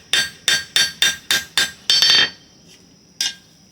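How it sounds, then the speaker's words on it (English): Hot metal hammered flat on the face of a blacksmith's anvil: seven sharp, ringing blows in a steady rhythm, close and loud, then a pause and one more clanging strike, with no talking. "Bring it to the face of the anvil, flatten it out."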